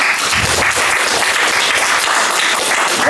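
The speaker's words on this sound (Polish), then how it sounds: "Jeszcze raz ogromne brawa." An audience at a debate on direct democracy applauds steadily, a dense and loud wash of clapping hands that fills the whole stretch without pause or voices.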